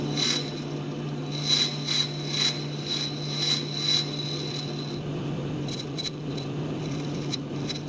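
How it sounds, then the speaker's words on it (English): A diamond nib dresses the grinding wheel on a Cincinnati #2 tool and cutter grinder. A steady motor hum runs underneath while the spinning wheel gives a soft, gritty, repeated scraping that comes in passes and then eases off. The level stays fairly low throughout. "I'm going to use one of my new diamond nibs here and do a quick dressing of the grinding wheel."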